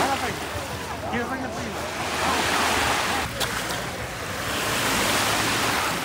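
Sea waves washing over a pebble beach at Recco on the Ligurian coast, a steady broadband wash with swelling surges, some wind noise on the microphone.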